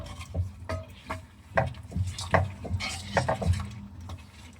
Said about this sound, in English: you're going to stir it